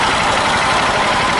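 A fuel-injected Honda Titan 150 motorcycle idling in neutral while being checked for a lack of power, a loud, steady, even engine drone close to the microphone with no voices.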